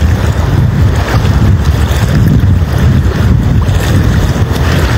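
Strong wind buffets the microphone beside the Lagoa dos Patos at Arambaré, swollen by high water, with a steady, loud roar and rumble of gusts and choppy water for the whole stretch and no talking.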